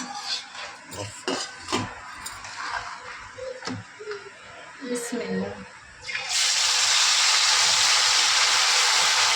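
Marinated chicken dropped into a kadhai of hot oil over a high flame, bursting into a loud, steady sizzle and hiss that fills the last few seconds after earlier clinks of utensils and someone talking.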